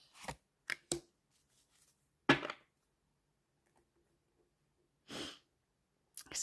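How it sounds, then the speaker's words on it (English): Several short, sharp sniffles come in separate bursts with quiet gaps between them, close to the microphone in an otherwise silent room. "Excuse my sniffling."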